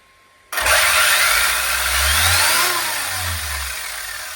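A Cobra 5 Ace car with an 8S setup fires up with a sudden burst, then its high-pitched whining motor revs up and down twice in strong, sustained waves, loud and close.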